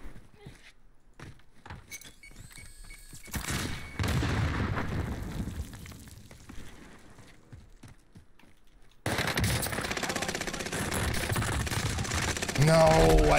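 Gunfire in the Warzone battle royale shooter, with sharp bursts and rapid shots crackling in clusters, sometimes close and loud, sometimes more distant, mixed with game ambience and voices talking over it.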